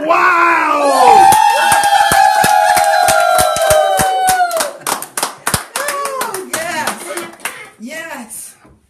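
A crowd claps and cheers after a saxophone recital, with dense, sharp handclaps over sustained cheering and voices, then scattered, uneven claps and calls as the applause thins out.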